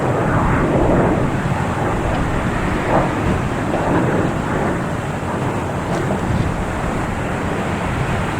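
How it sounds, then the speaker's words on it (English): A Cessna Citation Longitude business jet takes off at Boston Logan Airport with a loud, sustained roar and broad rushing noise that stays strong throughout and sounds close. "Next taking off, we have a Cessna Citation Longitude."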